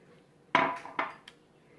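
Ice goes into a blender jar for a pineapple juice with banana and lemon, one loud clattering drop followed by a second smaller clink and a light tap, close and otherwise quiet.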